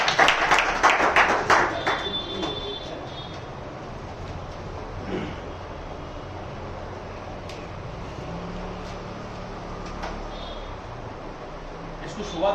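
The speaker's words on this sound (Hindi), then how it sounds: "तो ताली बजा दो भैया।" An audience claps during a lecture about cells, a dense burst of many hands for about two seconds that quickly fades into quiet room noise.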